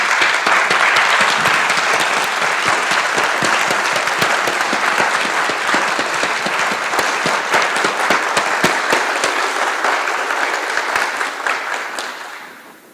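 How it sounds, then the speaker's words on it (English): A large crowd at a December 2020 engineering graduation ceremony applauds the supervisors with loud, sustained clapping that holds steady for about twelve seconds before fading out. "let us all give them a wonderful round of applause"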